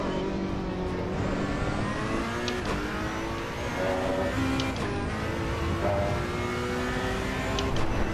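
A race car engine in Assetto Corsa Competizione, played on a MOZA R5 wheel, droning loud and continuous as it climbs and drops through the revs on a track, with tyre and whirring mechanical noise underneath and no pause.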